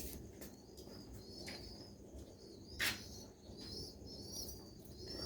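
Young pigeons coo softly under faint ambient noise, a few low calls spread across a few seconds, with one brief sharper flutter or chirp standing out midway.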